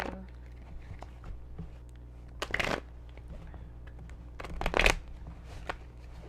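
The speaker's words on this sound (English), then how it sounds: "One more shuffle." Tarot cards being shuffled in two quick riffling bursts, with soft handling noises and light rustling between them; no talking.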